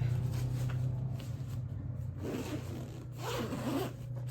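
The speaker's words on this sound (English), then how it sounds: "Zip this up." A zipper drawn closed on a packed travel bag, two distinct zipping runs in a row, close and clear, with a steady low hum underneath and no talking.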